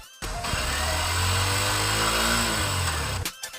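A Hero Glamour X 125 facelift motorcycle's exhaust drones steadily at a mid-pitched idle-to-rev note, starting abruptly and cutting off near the end, loud and close with no talk.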